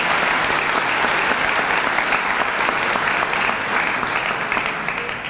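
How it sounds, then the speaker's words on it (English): Audience applause at a Melbourne event honouring former Australian Prime Minister Julia Gillard, a dense, steady clapping from a large crowd that stays loud throughout and fades only slightly at the end. "if we could give her a big round of applause"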